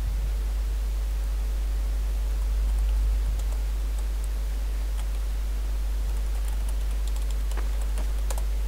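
Keys on a computer keyboard are typed in bursts of light clicks, with a command going into the game console while playing Garry's Mod, set against a steady low hum and soft background noise.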